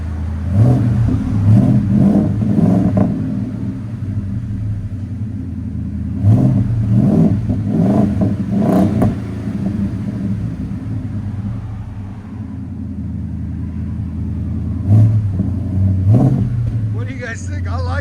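A 2025 Ford F-250 Tremor pickup with a 7.3L V8 and an X-pipe Borla ProXS exhaust revs repeatedly in bursts, deep loud rumble rising and falling outdoors, with people talking over it.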